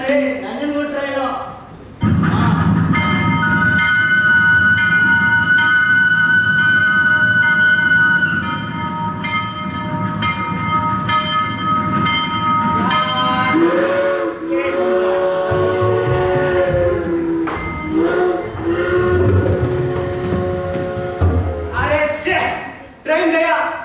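Train at an Indian railway station pulling in, a loud sustained whistle or horn for several seconds followed by rolling rumble and squeals, with people talking nearby.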